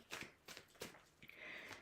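A deck of tarot cards is shuffled during a live reading: a few soft, quick riffling bursts close by but quiet, with no talking over them.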